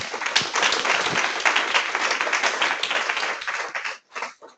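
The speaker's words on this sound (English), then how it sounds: "You're only applauding because you weren't there." An audience applauds after a talk in an obstetrics lecture series, loud sustained clapping that thins out and breaks into a few last scattered claps.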